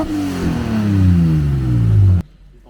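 A drift car's engine, heard from inside the cabin with no rear partition, revs hard and loud, the pitch dropping gradually over two seconds before cutting off abruptly into near-silence.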